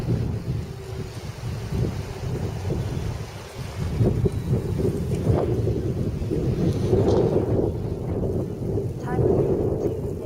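Strong gusting wind buffets the microphone at an RC plane flying field during an FMS Sbach 342 flight, a steady low roar with heavier blasts, no voices.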